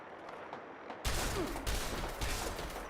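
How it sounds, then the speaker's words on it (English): Gunfire rings out in Fallout 76: after a quiet second, a burst of sharp shots lands close and loud, followed by several more spaced reports over a busy background. "I hear shooting"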